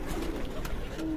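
A Ferozpuri pigeon coos softly in a short, low burst, heard alone at moderate distance.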